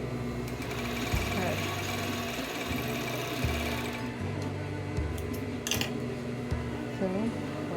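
A sewing machine running steadily up close while hemming a kimono, a continuous mechanical whir with short stops and restarts, as a person talks over it.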